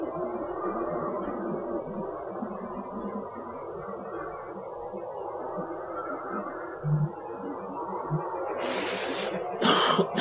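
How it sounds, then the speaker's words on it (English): Muffled coughing and throat clearing in short bursts against a dull background hum, with a couple of sharper coughs toward the end. "looks like my cough is still trying to make itself felt."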